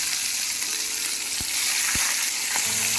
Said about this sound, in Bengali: তেলটি গরম হয়ে গেছে এবং ধীরে ধীরে মাছগুলো আমি ছেড়ে দেব